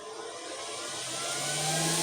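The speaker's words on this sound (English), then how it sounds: "Compressor." A Vevor compressor filling a 3-litre bottle runs with a steady mechanical whine and hum that slowly grows louder over about two seconds, close and alone without talk.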